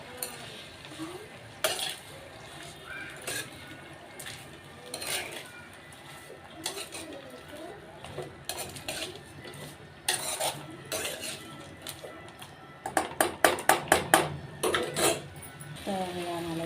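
Coriander leaves for chutney are stirred and sautéed in a pan, with intermittent scraping and clinking of a spoon against the metal under a soft sizzle, growing into a quick burst of rapid scrapes near the end.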